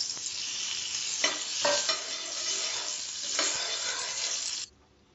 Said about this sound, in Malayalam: അതിലേക്ക് 1 സ്പൂൺ നമ്മൾക്ക് നെയ്യ് ഇട്ട് കൊടുക്കാം